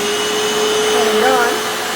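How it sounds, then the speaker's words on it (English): A Hoover FloorMate Deluxe hard floor cleaner runs on its wash setting as it is pushed, giving a steady close motor whine with a constant tone and a slight swell partway through. "I turned it on to wash, and I'm pushing, that's what that looks like."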